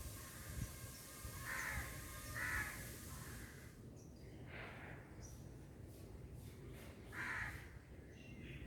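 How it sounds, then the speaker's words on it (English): Birds call outdoors in a calm natural setting, with a few faint, distant, harsh caw-like calls spaced out over a quiet, steady background hush. "birds chirping"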